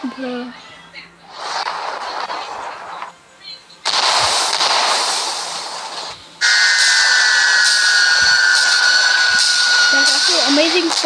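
Fireworks going off on a mountain at New Year: bursts of crackling, booming blasts come in several loud waves, with a long whistling streak rising through the final stretch.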